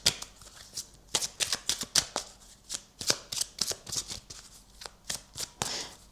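Oracle cards shuffled by hand at close range, a steady run of crisp riffling flutters and soft slaps with short pauses between bursts, no talking.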